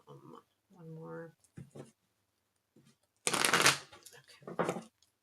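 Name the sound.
shuffling tarot cards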